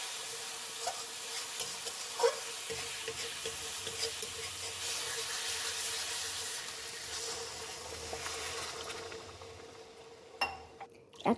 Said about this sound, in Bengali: মশলাটাকে ভালো করে কষিয়ে এরপর আমি জল দিয়ে দেবো।